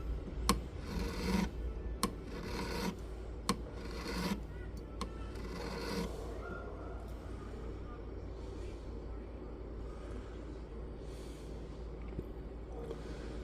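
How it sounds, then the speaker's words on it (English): A hand file rasps against a metal ring being resized, several quick scraping strokes at first, then quieter, slower rubbing, close up and low in level. "Do just a little bit more filing on this side."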